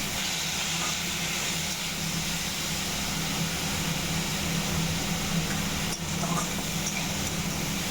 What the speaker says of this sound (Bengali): মুসুরির ডালের সঙ্গে মশলাটা একটু ভাজা হবে।